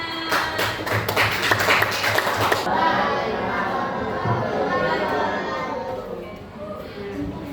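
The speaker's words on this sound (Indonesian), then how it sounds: "Kita kasih jempol untuk kelompok 4. Oke, tepuk tangan." Schoolchildren in a classroom clap for a group presentation, a brief burst of quick claps in the first few seconds that gives way to children's chatter and voices.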